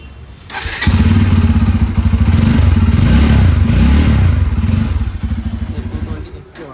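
A 2024 Bajaj Pulsar 220F with a twin-barrel exhaust starts up close by and settles into a loud, steady, thumping idle with rapid pulses. It fades at the end.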